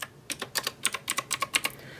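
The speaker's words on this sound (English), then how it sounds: "I'll go ahead and click a few let's see if you can hear any." Clicky blue switches on an E-Yooso X-8100 mechanical keyboard, pressed about a dozen times in an uneven run of sharp, close, fairly quiet clicks with no talking.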